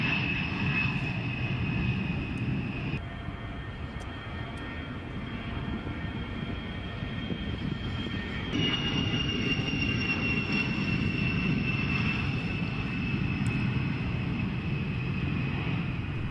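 A-10 Thunderbolt II attack aircraft flying low and slow, a steady droning jet roar with a high turbine whine, moderately distant and continuous for the whole stretch.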